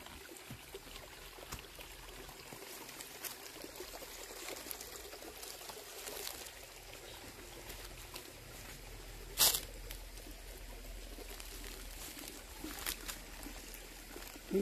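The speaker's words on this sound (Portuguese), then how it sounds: "Aqui vem mais água." Water flows and trickles steadily outdoors in a natural spot near Viseu, Portugal, a faint, continuous splashing stream with an occasional brief louder splash.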